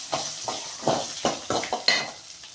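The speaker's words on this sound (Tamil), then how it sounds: "பூண்டு சீரகம் எல்லாத்தையும் போட்டுட்டு நல்லா இந்த மாதிரி வதக்கிக்கலாம்" Garlic, cumin, black sesame seeds and green chillies are stirred in a pan, with about eight rhythmic scraping strokes over a light sizzle.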